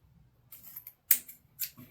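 Scissors snipping through ribbon while tying a wired bow, a few sharp quiet cuts spaced out over a couple of seconds with soft handling in between.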